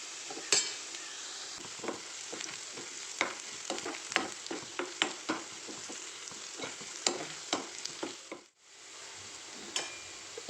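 Prawns, shallots and coconut pieces sauté in coconut oil with a soft sizzle beneath frequent sharp spatula clicks and scrapes against the pan, close and unhurried, with no talking.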